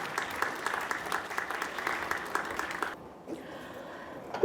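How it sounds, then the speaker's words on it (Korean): Audience applause after a musical performance at an education briefing, dense sustained clapping for about three seconds that abruptly drops to a quieter hall with faint residual sounds. "다시 한번 큰 박수 보내주시기 바랍니다"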